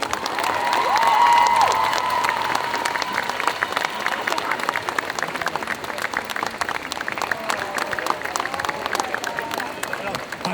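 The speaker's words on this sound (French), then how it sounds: "Est-ce que l'autre jeune fille peut monter sur scène afin qu'on puisse applaudir les deux candidats du concours Kodomo" An audience at a cosplay contest claps for the children on stage, the applause swelling early and then thinning to scattered claps, with some cheering and crowd murmur behind.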